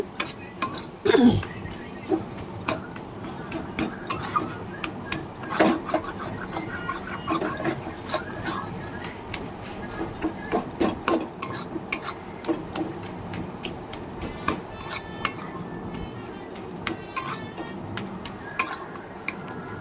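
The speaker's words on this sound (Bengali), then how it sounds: "একটু নাড়তে হবে ভালোভাবে" Fried spice masala for a pangas fish curry is stirred in a pan. A utensil scrapes and clinks intermittently against the metal over a faint background sizzle, with several sharper knocks along the way.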